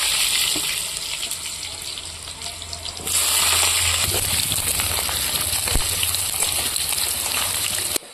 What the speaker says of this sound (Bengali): আলুটা একটু ভেজে নিয়েছি লাল লাল করে